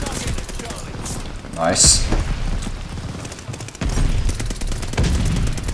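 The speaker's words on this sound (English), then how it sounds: "Shotguns, dude." Shotgun blasts in a video game played with mouse and keyboard, a few loud booming shots spread through the clip under an excited voice talking over the action.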